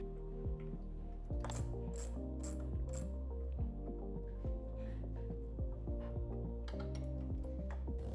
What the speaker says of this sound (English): we just need to tighten down the front mounting bolts on the crash bars